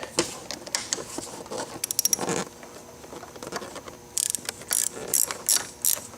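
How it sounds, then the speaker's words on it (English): Ratchet clicking as it undoes the nut under the clutch lever fulcrum pivot on a 2013-2018 Kawasaki Ninja ZX-6R 636, quick bursts of close, faint clicks separated by short pauses. "Undo the nut on the bottom of that fulcrum pivot point."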